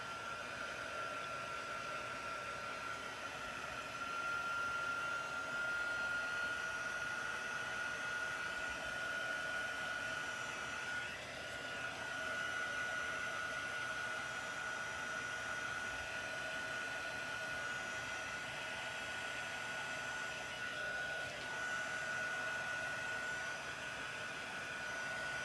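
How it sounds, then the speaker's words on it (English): A heat tool blows hot air to dry craft work, giving a steady, continuous whooshing roar with a constant whine that holds evenly for the whole stretch, close by and unchanging. "now all I'm going to do is get my heat tool and help it along"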